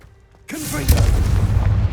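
Confringo explosive spell cast in Hogwarts Legacy: a sudden deep boom bursts out after a quiet moment and rolls on with a loud rumbling tail.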